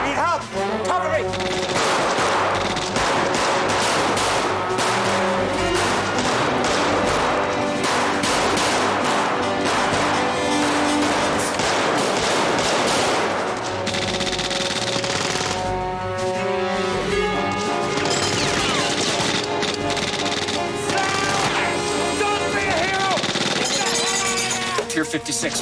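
Uzi fire rattles through a 1988 crime film shootout, with dense bursts of automatic gunfire and scattered shots running loud and almost without pause under shouted voices and score.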